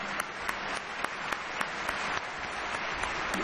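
Polite applause honoring São Paulo Futebol Clube at a sports award ceremony, a soft, even patter of many hands from a room-sized audience, with a few sharper claps popping out now and then.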